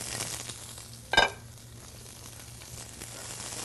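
Celery and carrots go into a hot pan for a Bolognese, setting off a sudden loud hiss burst that settles into a faint, steady sizzle.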